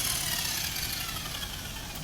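A rotary buffer polisher running steadily at about 1,200 RPM, giving a continuous close whirring hum with even broadband hiss and no talk.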